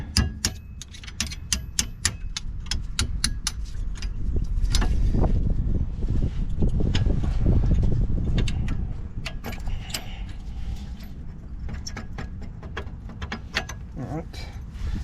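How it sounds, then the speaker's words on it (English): Sharp metallic taps knocking a stuck brake caliper pin out on a 2019 Dodge Charger Scat Pack, many quick close clicks and raps in irregular bursts over a low rumble in the middle. "Go ahead and start tapping out the bottom one."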